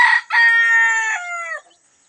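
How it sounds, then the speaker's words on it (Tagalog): A small farm chicken gives a short, bright, close crow with a clucking lead-in, harmonic and loud, then fades into quiet. "yung maliliit namin manok dito"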